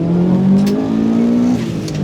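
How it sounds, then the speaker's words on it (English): A bugeye Subaru WRX STI engine pulls hard under acceleration, a loud steady growl rising slightly in pitch before settling, heard from inside the car. "Oh, what a good noise and a good amount of power."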